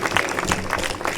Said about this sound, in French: Sous vos applaudissements, bien entendu.